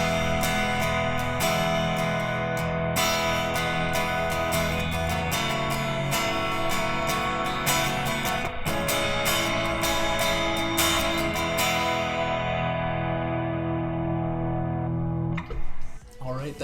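An electric guitar plays a song's chord progression with effects, strummed chords ringing in a steady sequence that fades out near the end.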